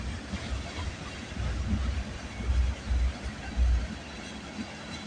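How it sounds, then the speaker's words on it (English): A freight train led by CSX locomotives on the CPKC Galt Subdivision passes at Bronte, a broad low rumble that swells and fades in waves, with some wind, and no voices. "Here's the roar. I think there's a DPU coming ahead."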